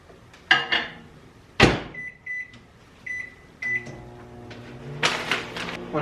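A household microwave oven runs on a two-and-a-half-minute breakfast reheat, its steady low hum joined by sharp clicks of the door and keypad beeps at close range, with no talking.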